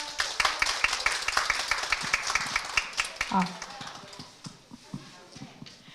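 Scattered clapping from a small audience at an education policy talk event in Wanju, Korea, with uneven individual claps that thin out toward the end, and a brief voice partway through.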